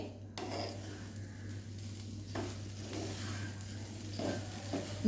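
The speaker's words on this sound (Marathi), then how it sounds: "साखर घालायची आहे आपल्याला आता आणि छान ही मिक्स करून घ्यायची आहे" Sugar is stirred into a coconut mixture in a pan, giving soft, intermittent scraping strokes over a faint sizzle and a steady low background hum.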